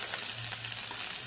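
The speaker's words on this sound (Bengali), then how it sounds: "পেঁয়াজটা একটু লাল লাল ভাজা হবে, ততক্ষণ এটা নাড়াতে হবে।" Chopped onions fry in oil for a bitter gourd dorma while being stirred, a loud unbroken sizzle heard close up with no voices.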